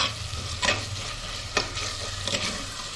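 Chopped tomatoes sautéing with onion, ginger and garlic in a pan for a country chicken curry, a steady low sizzle broken by three distinct scraping stirs of a spatula.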